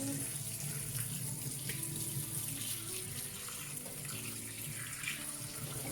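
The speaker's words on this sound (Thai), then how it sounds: "เอามาล้างให้สะอาด" Freshly scooped tiny freshwater shrimp are washed clean under a running tap, a steady low gush and splash of water with faint clattering, fairly quiet and continuous.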